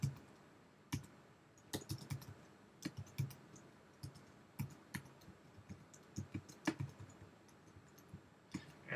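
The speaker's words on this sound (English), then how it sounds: "now I can get it, and I'll type in my name" Keys clatter on a computer keyboard in irregular bursts, close and crisp, with short pauses between runs of typing.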